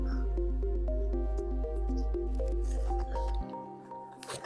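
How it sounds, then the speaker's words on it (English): A Sawyer water filter is back flushed, a loud steady squishing gush of water forced through the filter that cuts off abruptly, then gives way to faint drips and handling sounds. "back flushing a Sawyer water filter"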